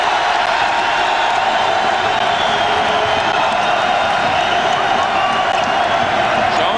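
A packed basketball arena at a 1986 Villanova–Maryland college game roars in a dense, continuous wall of cheering and crowd noise, loud and sustained throughout with no breaks.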